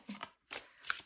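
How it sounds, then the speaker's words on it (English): A brand-new tarot deck, the Tarot of the Holy Spectrum Infinity Edition, is shuffled by hand in three quick, close, quiet bursts of card riffling separated by short pauses. "so we see how this deck shuffles"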